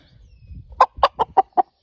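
Small decorative chickens, a rooster and two hens kept over winter in a greenhouse, give five sharp, evenly spaced clucks up close after a stretch of soft rustling and low shuffling.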